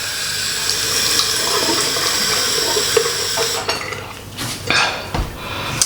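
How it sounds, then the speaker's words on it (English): Tap water runs steadily into a sink while someone washes their face, a continuous close splashing with a few louder splashes and small knocks near the end. "I'm washing with water now just to get the face wash off."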